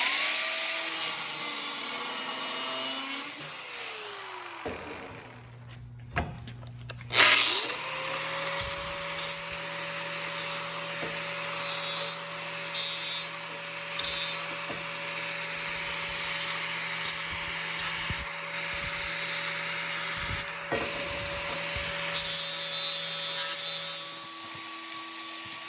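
A handheld power tool with no guard cuts a piece off an ornamental iron gate, a steady high whine with a sharp break partway through before it spins back up and runs on, close and loud, with no talk.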